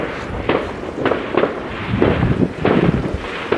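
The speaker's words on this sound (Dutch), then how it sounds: "We gaan kijken of we vuurwerk kunnen zien buiten." Fireworks pop and crackle outdoors on New Year's Eve in a rapid irregular series of bangs, fairly loud, with wind rumbling on the microphone.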